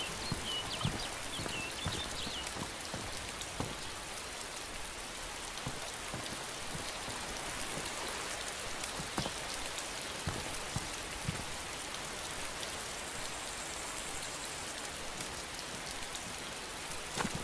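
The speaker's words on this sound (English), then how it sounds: "It rains a lot here, doesn't it?" Steady rain falling outdoors, a soft continuous hiss with scattered louder drops and faint patters throughout, fairly quiet and uniform with no talk.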